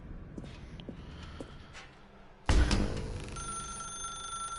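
Telephone ringing in The Stanley Parable video game, a sharp electronic ring that starts about halfway through and holds steadily loud after quieter clicks and game sounds.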